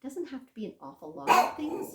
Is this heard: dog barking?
yes